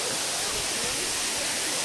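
Waterfall at Puente Calderón park in Zapotlanejo, Jalisco: a steady, loud, close rush of falling water, with no break and no clear talk.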